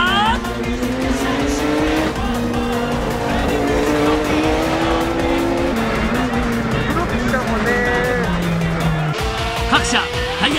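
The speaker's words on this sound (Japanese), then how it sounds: "各社タイヤのグリップを確認しながらの走行" Japanese race cars, including a GT-R and an NSX, lapping a track in a 1995 touring-car battle, drivers testing tire grip; loud continuous engine drone with shifting revs and tire noise throughout, under steady commentary.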